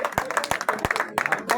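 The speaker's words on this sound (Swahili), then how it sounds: "Makofi," Guests clap at a wedding celebration, with sharp, irregular nearby claps over a small crowd's murmur and some talking.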